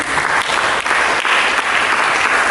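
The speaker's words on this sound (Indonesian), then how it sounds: "Berikan tepuk tangan bagi" Loud, dense applause from a church congregation during a sermon, a continuous wash of clapping hands filling the whole moment without pause.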